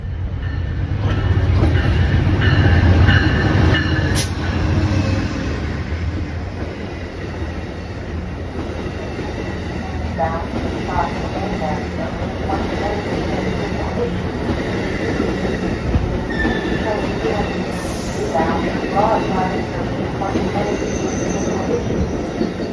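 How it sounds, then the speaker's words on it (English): Amtrak locomotive in Phase VI livery leading a regional train into Virginia, passing close with a loud rumble, rhythmic wheel clatter and occasional high squeals from the wheels over a long steady pass. "Locomotive number 108 came through, leading a regional train into Virginia and sporting the Phase VI livery."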